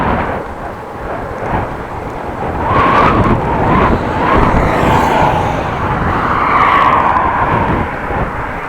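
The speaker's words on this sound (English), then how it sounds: "cars will be whooshing by," Steady roar of traffic passing close by on an 80 km/h road beside a Dutch bike trail, with a continuous rushing drone that swells and fades as vehicles whoosh past, loud throughout with no talking.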